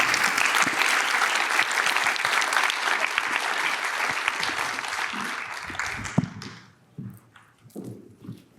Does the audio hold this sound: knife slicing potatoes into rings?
no